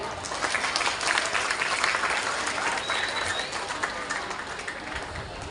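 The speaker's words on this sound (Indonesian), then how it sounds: "Tepuk tangan dulu lah." Audience at a school event in Indonesia applauding a speech, dense sustained clapping that rises slightly and then eases off, loud and close with little talk.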